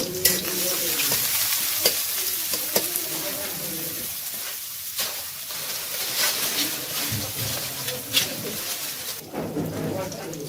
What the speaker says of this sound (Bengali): তেল দিলাম, তেল একটু গরম করলাম, পেঁয়াজের কুচি দিলাম, এগুলো একটু ভেজে নিব।